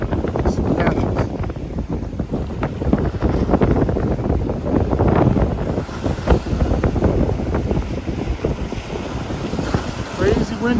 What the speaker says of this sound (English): Crazy windy day.